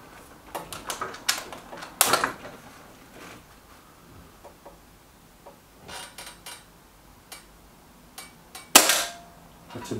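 Trimex Arms Elf S and Kral Puncher Knight air rifles being shot, a series of sharp snapping cracks and clicks at irregular intervals, with a louder crack near the start and another near the end, recorded close.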